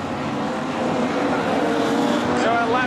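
Production sedans race around the Carina Speedway dirt track, engines droning loud and steady with a rising whine near the end, mixed under a race commentator's voice.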